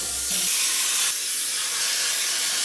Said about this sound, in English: the baking spray also really helps